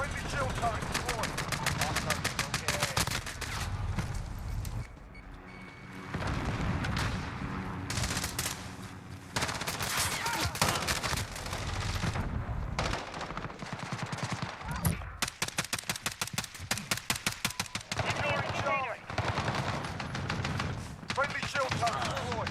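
Rapid automatic fire from a Berliner HK433C rifle in a Call of Duty Modern Warfare multiplayer match: repeated sharp bursts and rattling volleys, loud and close, broken by short quieter gaps.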